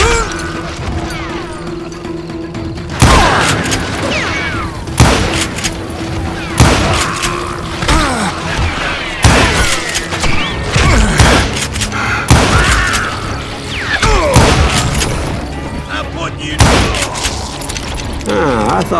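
Gunshots ring out in Call of Juarez: Gunslinger, a Western shooter, as loud sharp blasts repeat irregularly every couple of seconds over clattering action, with voices shouting in between.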